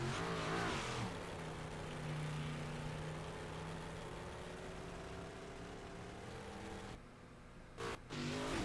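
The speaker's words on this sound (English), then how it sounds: "Tyler Topman out on his qualifying run" A dirt track race car on its qualifying run at an American All Star dirt double-header, engine droning steadily at high revs as it circles, loud and continuous with a brief dip near the end.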